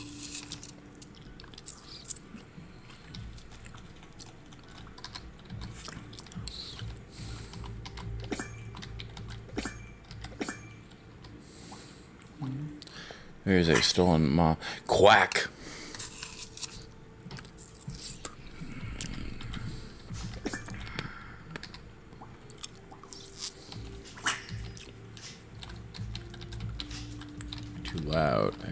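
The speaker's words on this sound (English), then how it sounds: "I can hear her keyboard all the way to my desk" A computer keyboard clatters with steady rapid typing in the Duck Detective video game, the keystrokes quiet and continuous beneath game sounds, with one brief louder burst of noise and a voice speaking.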